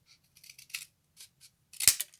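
Scissors snip through paper for a small folded mini box, a few short crisp cuts spaced apart and ending in one louder, sharper snip, close and quiet with no talking.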